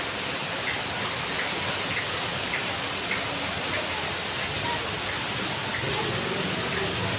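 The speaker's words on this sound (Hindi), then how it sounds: "बहुत जोर से बारिश आ रही है।" Heavy rain pours down hard outdoors, a loud, dense and unbroken hiss of drops pounding surfaces that holds steady from start to finish with no voices.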